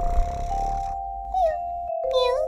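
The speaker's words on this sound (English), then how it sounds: "A cat is a small furry animal with whiskers that usually lives in your house." A cat gives a couple of short, tonal meows over a sustained background tone, each call rising and falling in pitch at moderate loudness.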